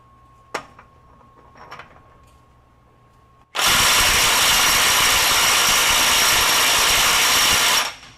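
A Metabo SSW 18 LTX 800 BL mid-torque 1/2-inch impact wrench runs in reverse to remove a fastener, a loud continuous hammering roar lasting about four seconds after a few quiet knocks.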